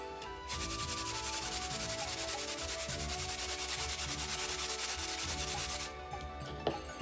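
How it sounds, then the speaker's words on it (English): Turnips are rubbed against a kitchen grater in a fast, continuous rasping scrape, close and steady for several seconds before it stops with a few small knocks. "And then grate two turnip."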